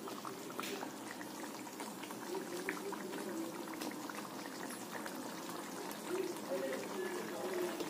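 Creamy white paneer gravy simmers in a pan with a soft, steady bubbling and faint popping, quiet and continuous, while someone speaks lightly over it.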